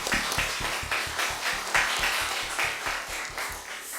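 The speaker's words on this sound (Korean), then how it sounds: "하나님께 감사와 영광의 박수를 한번 드립시다" A church congregation at a Sunday service in Paju claps together in a fast, even rhythm, the sharp strikes repeating steadily for several seconds without talk.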